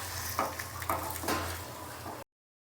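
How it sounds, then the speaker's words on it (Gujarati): Dates being roasted in ghee over a low flame, with a soft sizzle and a few quick stirring scrapes against the pan before the sound cuts off. "તો આપણે બધા ખજૂરને ઘીમાં ફેરવી નાખીએ"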